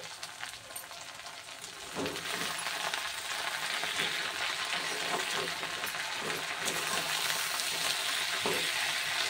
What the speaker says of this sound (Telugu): అలాగే చిటికెడు పసుపు వేసుకుని మొత్తం ఒకసారి ఫ్రై చేసుకుందామండి